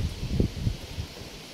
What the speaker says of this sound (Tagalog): medyo mahangin siya guys. Mahangin dito.